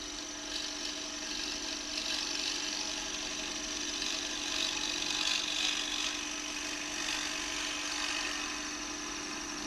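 Wood lathe turning a bowl, the gouge cutting steadily with a continuous whirring, scraping hiss that stays fairly loud and even throughout, no talking.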